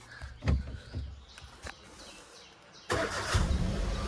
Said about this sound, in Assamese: গতিকে এয়া হৈছে গাড়ী ইঞ্জিনৰ চাউণ্ড